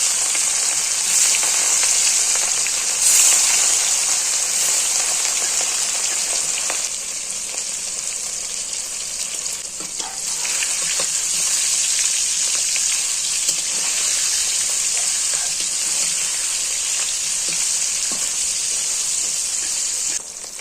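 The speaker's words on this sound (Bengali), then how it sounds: "তেলটা ভালো করে গরম হয়ে গিয়েছে দেখুন মাছটা দিয়ে দেবো" Rohu fish frying in hot oil, a continuous loud, close sizzle that holds steady for about twenty seconds with brief dips and swells, no voices.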